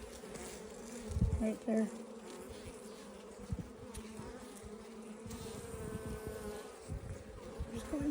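Dense honeybee buzzing fills an open hive during a frame inspection with drones, larvae and a queen on the comb, a steady close hum with occasional thumps as the frame is handled, and a person speaking briefly.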